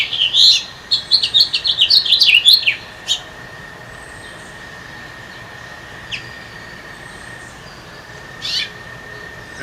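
A male house finch sings a quick, bright warbling phrase of rapid chirps near the start, then falls quiet, with a couple of faint distant calls later over steady low background rumble.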